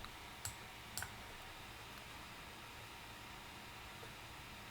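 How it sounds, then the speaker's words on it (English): A computer mouse clicks on a spreadsheet cell, faint and close, giving a pair of sharp clicks early on and a softer one near the end over a quiet hiss. "Take your mouse and click into cell"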